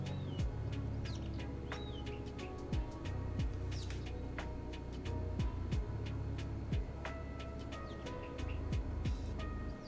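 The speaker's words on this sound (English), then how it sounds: "Yeah, you can kind of hear them." Faint songbirds chirping outdoors in the distance, thin scattered calls over a steady low hum and rumble of traffic.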